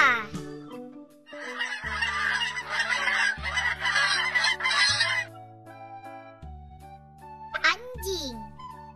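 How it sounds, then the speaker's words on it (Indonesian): A goose honks in a burst of loud, harsh calls, over a children's animation with a backing music track and a voice. "Angsa."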